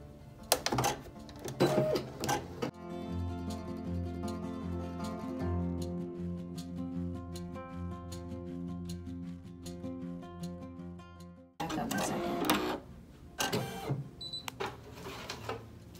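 A Brother PE800 embroidery machine stitches a design onto a baseball cap with a steady, even mechanical whir, framed by louder handling clatter at the start and end.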